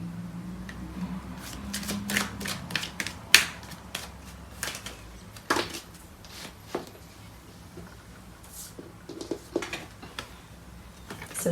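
Tarot cards are shuffled by hand up close, a run of crisp riffling flicks and soft slaps in uneven bursts with quiet gaps between them.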